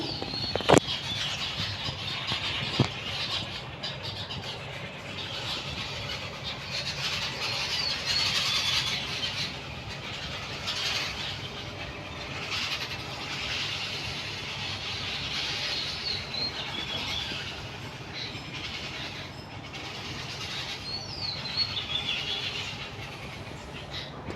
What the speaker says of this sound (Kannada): ಮನೆ ಹತ್ರ ತುಂಬ ಹಕ್ಕಿಗಳು ಕೂಗ್ತಾ ಇದ್ದಾವೆ